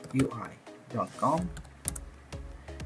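A computer keyboard typed on close by, with a short burst of clicky keystrokes after someone speaks briefly at the start.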